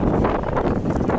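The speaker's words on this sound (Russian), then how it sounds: "Ветрено." Steady rumbling buffet of wind hitting a microphone, loud and constant throughout with no voices.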